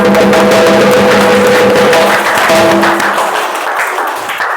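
A crowd claps steadily and loudly for several seconds over a lingering parai drum tone, then the applause thins and fades out.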